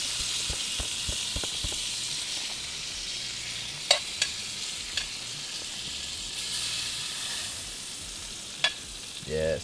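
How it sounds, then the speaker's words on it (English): Steady, dense sizzling of butter and garlic foaming in a hot pan, with a few sharp clicks and taps of a utensil scattered throughout. "I love the sound of foaming butter."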